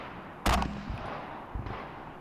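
Rifle fired at a steel spinner target at a match: one sharp, loud shot, then two softer, more distant shots with ringing impacts in between.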